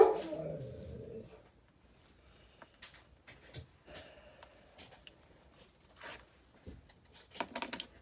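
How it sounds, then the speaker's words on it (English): Dogs barking indoors, a loud bark at the start followed by scattered yips, whimpers and short barks spread irregularly through the rest, with quiet gaps between. "Again, my dogs are causing chaos."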